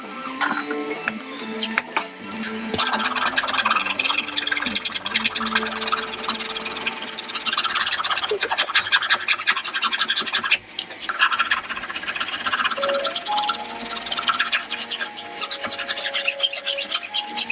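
A hand file rasps steadily over the wooden body of a bajo quinto under construction, close and loud, with continuous back-and-forth strokes for the whole stretch and no talking.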